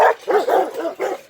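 Several dogs barking in a quick burst, about five short close barks with a slight yelping, whimpering edge, loud and alone with no talking.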